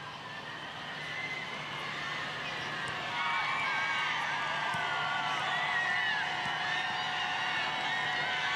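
Low, steady murmur of a stadium crowd at a women's international football match between Ireland and Georgia, a deflated hum after a missed penalty, swelling slightly midway and continuing without a break.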